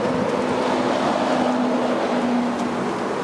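Steady, broadband wind rushing against the microphone, loud and unbroken, with a faint low hum underneath and no speech.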